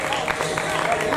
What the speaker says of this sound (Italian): Un applauso. Lo so, dovrete applaudire tantissimo stasera,